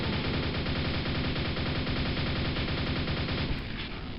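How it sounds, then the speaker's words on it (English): Quake's nail gun fires continuously, a dense rapid mechanical rattle that stays loud and steady for about three and a half seconds before cutting off. "having to fall back to the nail gun here"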